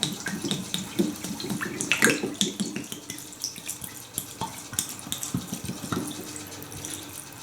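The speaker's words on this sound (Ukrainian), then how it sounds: "Набиваємо плотно цілу банку. І заливаємо самогон." Homemade moonshine poured into a jar tightly packed with fly agaric mushrooms, an uneven glugging and splashing stream with gurgles and drips, close and alone.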